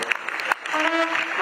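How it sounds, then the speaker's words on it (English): Audience applause at a UNIBEN alumni trust fund launch, honoring the chief launcher, a brief burst of clapping mixed with crowd noise and a voice over it. "Please give him a round of applause."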